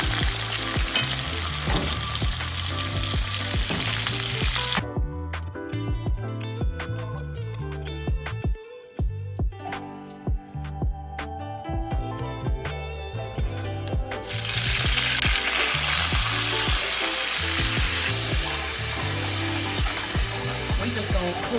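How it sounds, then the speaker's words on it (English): Mushrooms sizzle in a pan during a Passover meal cooked in a minivan. A hissing fry plays under background music, loud at the start and end and quieter in the middle. "We just gonna cook the mushroom right on up in this flavor right here."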